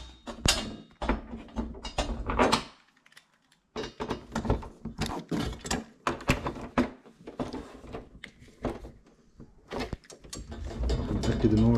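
Screws being tightened into a metal TV stand during assembly, giving a run of close mechanical ratcheting and clicking bursts with a short pause partway through, with some handling noise under it.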